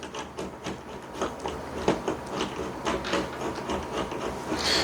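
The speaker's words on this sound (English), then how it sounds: "These screws take forever to screw in. Lots of threads on here." Long-threaded screws being driven by hand into a Knobwell smart door handle during installation, a steady run of small rubbing, ratcheting turns close by with no talk.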